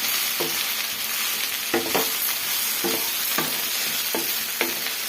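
Tamarind and onion fry in oil for an onion chutney, giving a steady close sizzle with about six sharp scraping stirs of a spatula spaced through the pan, and no voices.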